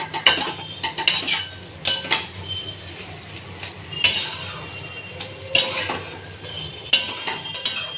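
Taro leaf greens being stirred in a metal pot, with repeated scraping clinks of a utensil against the pan at an irregular, unhurried pace, close and fairly clear, with no talking.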